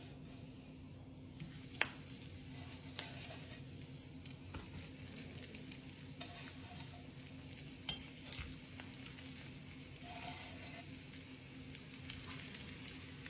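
Breaded salmon patties frying in hot oil make a quiet, steady sizzle with scattered small pops and crackles close up, under a faint constant hum; no voices.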